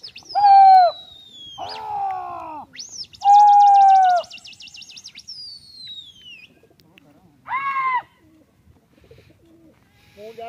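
High-flying racing pigeons at a tournament give several loud, close coos in separate bursts, broken by softer chirps and a long descending whistle-like tone, over quiet gaps and faint background noise.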